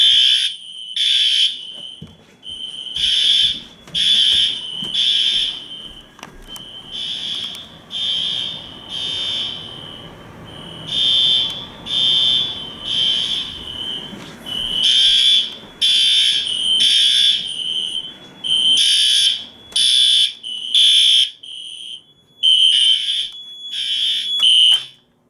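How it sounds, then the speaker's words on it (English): An older replacement alarm unit in a store beeps loudly and insistently in short repeated bursts, grouped in clusters with brief gaps, sounding alone without talk. "Replacement alarm of an older device within the store."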